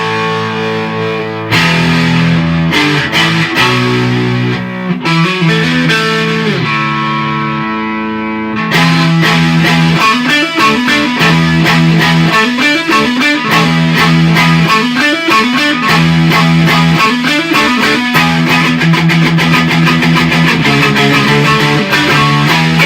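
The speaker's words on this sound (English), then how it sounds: "It's got a lot more overdrive." Electric guitar played through a Behringer TO800 overdrive pedal, loud and close, with crunchy distorted chords and riffs, a short pause, then a longer driving run of overdriven notes and sustained tones, no voice.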